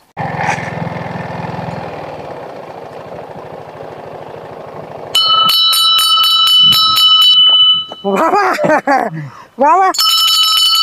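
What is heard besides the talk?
bell ringing loudly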